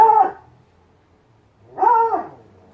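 Two short whiny dog vocalizations separated by a pause, a high nasal whimper close by, with no talking.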